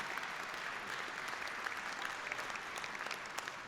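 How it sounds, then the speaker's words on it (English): Commencement audience at a business school graduation applauding the assistant dean, a continuous dense crowd clapping that sounds moderately distant and holds steady throughout with no talking. "Give her a round of applause."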